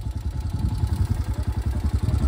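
A motorcycle engine labours uphill on the Malshej Ghat road, close and loud, with a steady pulsing throb and a mechanical clatter underneath.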